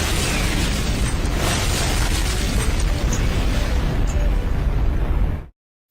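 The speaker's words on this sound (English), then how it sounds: "you're looking for the explosions" Explosion sound effects roar as a continuous loud, dense rumble with bursts and crackle for about five seconds, then cut off abruptly.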